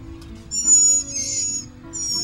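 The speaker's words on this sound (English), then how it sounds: "Very hungry, very noisy little birds." High, thin chirping calls from hungry baby mockingbirds, repeated insistently in a nest over a steady low background hum.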